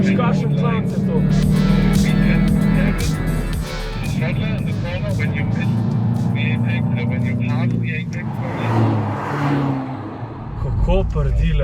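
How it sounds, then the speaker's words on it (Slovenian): A Hyundai car's engine and exhaust drone and rumble loudly while it is driven on a Formula 1 race track, with the revs rising and falling throughout and someone talking over the engine noise. "Kako prdi lepo ta avto je"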